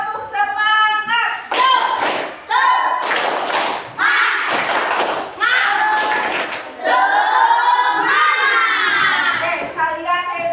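Classroom of children doing a rhythmic clapping cheer, bursts of claps and taps mixed with loud children's shouting and chanting voices, close and lively throughout.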